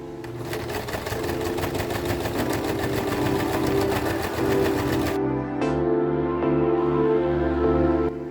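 A sewing machine runs steadily, stitching a flat felled seam on fabric, its motor hum loud and close; partway through it slows and shifts pitch, then keeps running.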